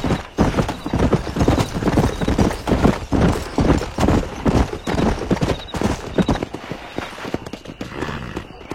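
Horse hooves clip-clop steadily and close while someone rides along, with a short whinny and faint voices mixed in.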